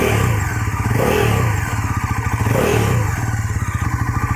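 Bajaj Pulsar NS400Z motorcycle engine, new and unrun, blipped from idle to mid revs in a few rising and falling revs, loud, close and steady with a throaty mechanical clatter, no talking.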